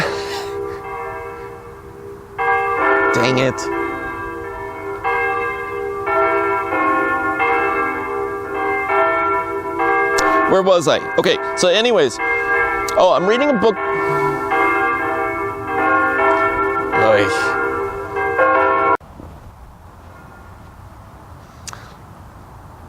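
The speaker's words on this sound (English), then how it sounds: "here go the bells" Church bells ring out at noon in a long, sustained peal with overlapping tones, while a person talks over them now and then before the ringing stops.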